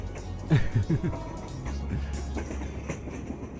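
Train running on rails in a Bangladeshi drama scene, a brief rhythmic rumble with a few clicks near the start, then a steady low rolling beneath faint background voices.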